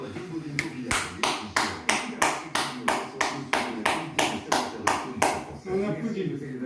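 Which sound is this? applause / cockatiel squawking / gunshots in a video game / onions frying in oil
applause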